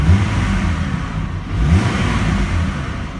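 Car engine rising in pitch as the driver accelerates, a loud, continuous low rumble heard from inside the car without speech.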